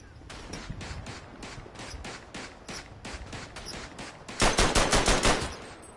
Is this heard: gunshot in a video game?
yes